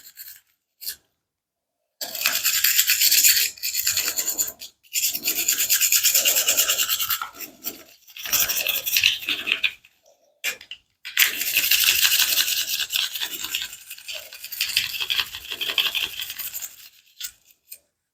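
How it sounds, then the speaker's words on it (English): A SIG Sauer P320 pistol is scrubbed with a bristle brush while its action is worked, giving repeated close, dry scratching strokes in bursts with short pauses and occasional metallic clicks, with no talking. "work the action while you're brushing it down as well"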